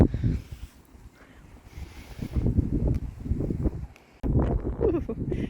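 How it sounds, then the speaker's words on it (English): Gusty wind buffets the microphone outdoors on an allotment, a rough rumbling roar that swells and drops in waves with faint knocks. "You can see how windy it is on here today. You can probably hear it"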